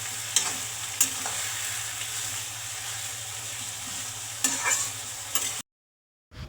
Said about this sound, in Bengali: পেঁয়াজ আলুটা ভাজা হয়ে গেছে, মশলাটা দিয়ে দিচ্ছি